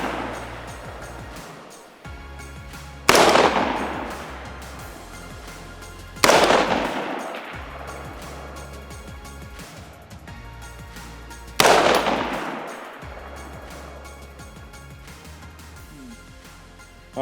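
Rifle shots fired at a steel target through a cheap scope outdoors, three loud, sharp reports spaced several seconds apart, each decaying slowly into a quiet background.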